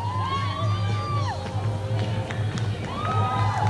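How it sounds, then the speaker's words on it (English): Crowd cheering along a parade route at the Hyack Festival in New Westminster, scattered shouts and whoops over a steady background murmur and a low droning hum, with children's voices rising above the noise. "I hear some cheering"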